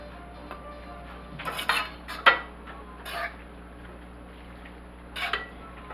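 A spoon tossing pasta in a pan gives a few short metallic clinks and scrapes with quiet gaps between them, close by and moderately loud.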